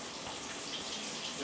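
Tea being poured into a cup makes a faint, steady liquid trickle with a soft hiss that runs unbroken and fairly quiet throughout.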